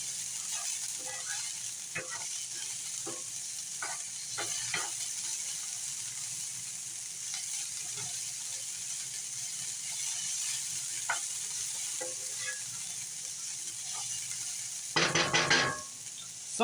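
Fresh garlic sizzles steadily in a pan over high heat for fried rice, a constant frying hiss with occasional clicks of a utensil stirring, ending in a brief louder scraping burst.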